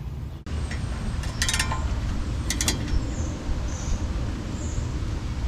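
Fan being taken off a car radiator during a radiator fitting job, with creaks, metallic clinks and ratchet-like clicks over a low steady background rumble.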